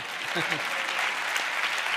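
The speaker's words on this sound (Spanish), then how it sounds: "Un aplauso para ella, para Nayara." Audience applause at a round-table talk, a steady wash of clapping from a crowd filling the whole stretch, with a voice briefly heard near the start.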